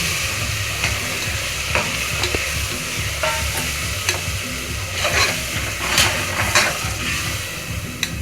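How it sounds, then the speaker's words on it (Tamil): A ground paste of tomato and Kashmiri chili is sautéed in oil, giving a steady loud sizzle with a spoon scraping and stirring around the pan throughout. "இப்போ அதை பச்சை வாசனை போகிற வரைக்கும் வதக்கிட்டுக்கலாம்."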